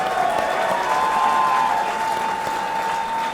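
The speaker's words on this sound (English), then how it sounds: "let's get a nice round of applause out here for both of these fighters" An arena crowd applauds two boxers after a three-round fight, steady clapping and cheering that continues the whole time, with a sustained tone running beneath it.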